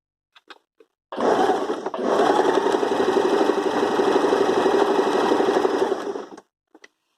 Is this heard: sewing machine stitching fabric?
yes